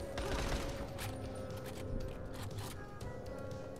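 Gunfire in Dying Light The Following crackles as a rapid string of sharp shots over a steady hum and background game noise, with a voice talking over it.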